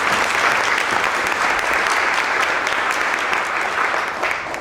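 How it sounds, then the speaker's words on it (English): Sustained audience applause for the panelists at a youth jobs innovation conference session, a dense, steady wash of clapping from a large crowd that holds strong throughout and tapers slightly at the end. "If I can please ask you to give them a very big applause."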